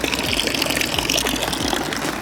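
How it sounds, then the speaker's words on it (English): Old public water fountain still running on a street in Trento, Italy, a steady close splashing and gushing of water that continues without pause. "very close to this old water fountain that's still working"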